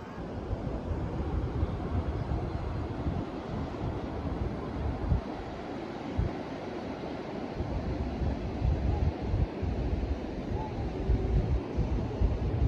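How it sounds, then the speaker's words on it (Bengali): Sea surf at Digha beach on a rising tide, a steady loud roar of breaking waves mixed with wind buffeting the microphone, continuous and broadband throughout with no clear voices. "আর একদিকে হচ্ছে সমুদ্রের গর্জন, আস্তে আস্তে জোয়ার উঠে আসছে"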